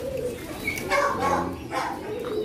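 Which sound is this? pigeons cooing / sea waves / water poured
pigeons cooing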